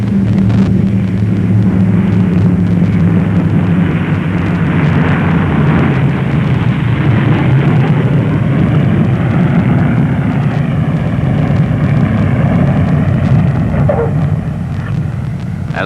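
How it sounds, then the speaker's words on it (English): A McDonnell Douglas DC-6 propeller airliner lands on a snow-covered runway with throttles pulled back and propellers reversing pitch, a loud continuous engine and propeller roar that dominates throughout with a rising and falling drone. "As the wheels touch down on the snow-covered runway, the pilots pull back the throttles, reversing the pitch of the propeller"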